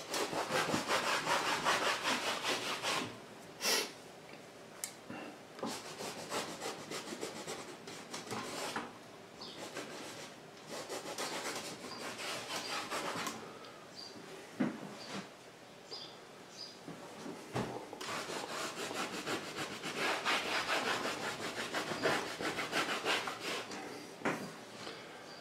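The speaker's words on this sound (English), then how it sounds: "now I have to rub this out." Paint is rubbed out on a painting with a steady scratchy rubbing, long repeated strokes with brief pauses, close and fairly quiet.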